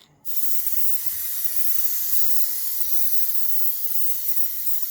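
An aerosol can sprays a second coat of Plasti Dip onto wheel rims. After a brief click, a loud, close, continuous hiss holds steady to the end.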